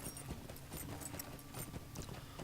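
Horse hooves clip-clopping at a steady riding pace in the online game Lord of the Rings Online, repeated soft thuds continuing throughout over a bed of game ambience, with no talking.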